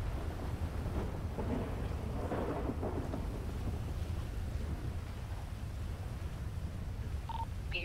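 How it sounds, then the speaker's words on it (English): Rain and a thunderstorm in a video game set during a sheriff's patrol shift: a steady, dense hiss of rain with low rumbling thunder underneath and no voices. "This rain is crazy."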